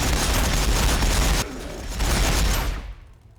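Ork bikers firing guns in a Warhammer 40,000 game, a dense continuous barrage of rapid shots that drops briefly, surges again, and then fades away to near quiet, loud and unbroken.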